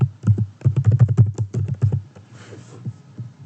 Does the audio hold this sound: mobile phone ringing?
no